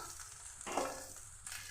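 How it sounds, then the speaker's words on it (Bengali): Taro (arum) pieces shallow-frying in oil give a steady close sizzle and crackle, with a brief swell of spattering partway through and no voices. "আমার কচু লাল লাল করে ভাজা হয়ে গেছে"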